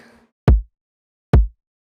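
Two short electronic snare hits, evenly spaced with a gap between them, each punchy with a quick decay and nothing else around them.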